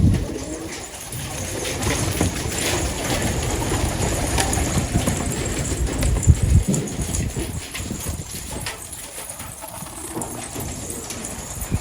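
Pet pigeons in a loft on a cold day coo continuously up close, with rustling and wing flaps mixed in and a low engine-like rumble in the background; no one speaks.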